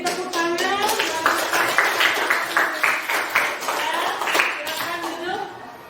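A small group claps steadily for several seconds, fairly close, with voices calling out over the applause after a group presentation, before it fades.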